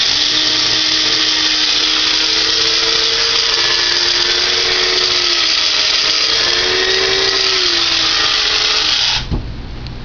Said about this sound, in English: So I got half a cup of dry sunflower seeds in the coffee grinder.